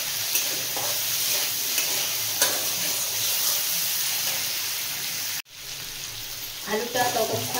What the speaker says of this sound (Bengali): আলুর মধ্যে একটু নুন আর একটু হলুদ দিয়ে ভেজে নেব।